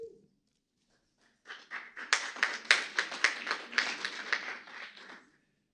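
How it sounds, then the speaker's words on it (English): Coast Guard colleagues clap for a speaker at a renewable energy task force session, starting after a brief pause as a small group's brisk, fairly quick claps that swell, hold for a few seconds, then fade out. "That's all my Coast Guard friends clapping for me"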